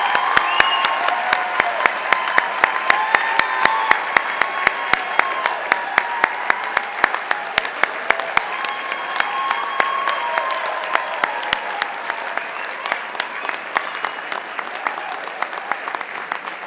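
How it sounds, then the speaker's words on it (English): A large indoor crowd at a fall convocation ceremony applauds its graduates with sustained, dense clapping that stays steady for a long stretch, with faint voices underneath. "please join me in one more big round of applause for our graduates"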